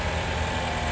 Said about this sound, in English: Okay, shot of the motor running.